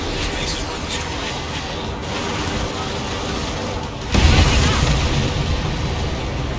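A heavy boom bursts from an enemy transport blown up in the Ace Combat 7 flight game, rising sharply after several seconds of steady roar and rumbling on as a loud, dense wash.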